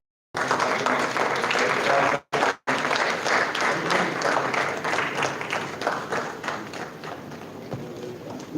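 Brisk audience applause fills a hall at a Doctors Day award ceremony in New Delhi, with dense close clapping that breaks off briefly twice before carrying on and slowly thinning toward the end.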